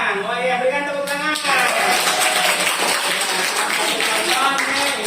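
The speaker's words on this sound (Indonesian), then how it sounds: "berikan tepuk tangan" Classroom applause from students, a dense steady wash of clapping lasting several seconds, with a teacher's voice carrying over it at the start.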